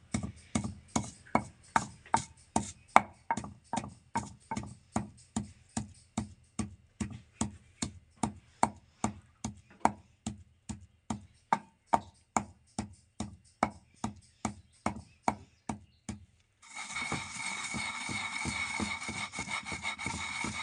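Green chillies ground with salt in a wooden mortar and pestle, a long run of evenly spaced, hollow wooden thuds pounding close by, ending in a brief rushing scrape.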